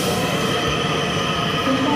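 An ITX Saemaeul train on the Gyeongbu Line approaches the platform at Suwon station with a loud, continuous rail rumble, and a brief wheel squeal rises near the end.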